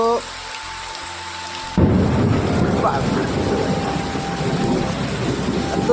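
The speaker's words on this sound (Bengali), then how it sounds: "বৃষ্টি হচ্ছে তবু আমাদের এখানে অবস্থা জল নিকাশের ব্যবস্থা খুব ভালো।" Heavy rain with thunder in the Sundarbans: after a quieter opening with a faint tone, a sudden loud, broad rumble and rush of downpour fills the rest, steady and close.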